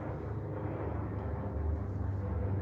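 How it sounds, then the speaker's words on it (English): A police helicopter passes overhead as a steady low rumble, moderately loud and fairly distant, holding constant without distinct blade beats and swelling slightly toward the end; faint speech-like murmur underneath. "the cops going overhead in the helicopter"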